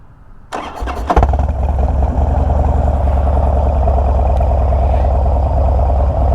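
A Harley-Davidson Dyna motorcycle with no switches except a start-stop switch cranks briefly, fires up and settles into a loud, steady, lumpy idle close by.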